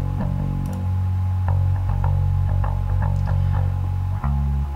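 Deep, overdriven and distorted bass guitar with an EQ cut in the low mids and a boost in the high mids. It plays sustained, gritty low notes with short rhythmic picked attacks, loud and close, with no talking.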